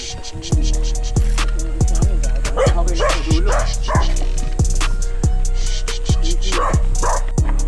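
Territorial dogs on a mountain trail bark repeatedly and loudly at close range in a steady series of sharp barks, with yips and whimpering mixed in between.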